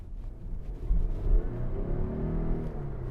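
Volvo V90 T8 hybrid car driving quietly, a low, steady engine and road rumble inside the cabin with a slight swell of acceleration, soft and continuous with no talking.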